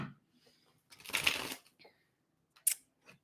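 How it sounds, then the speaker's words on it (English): A deck of tarot cards being shuffled close up: one dense riffling burst lasting about half a second, a pause, then a short sharp snap of cards, in an otherwise quiet room. "Give you 3 shuffles and then we'll hit it."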